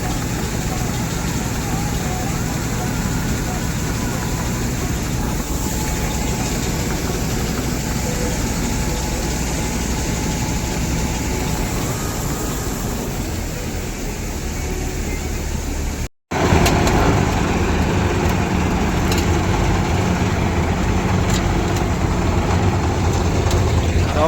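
A tractor engine runs steadily during a wheat harvest beside a cutter, a loud, continuous low rumble heard from close by with only a brief break, and no talk over it.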